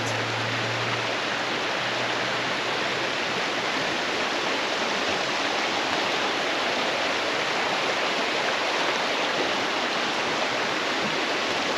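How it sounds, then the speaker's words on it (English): A river in spate near Melrose in the Scottish Borders rushes on in a cold February snap. The water makes a loud, continuous, broadband roar with no pauses, heard alone throughout. "River in Spate."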